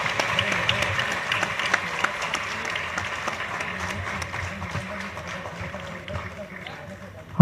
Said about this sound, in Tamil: எல்லாமே கரகோஷம் நல்லா சிறப்பாக பண்ணுவாங்க.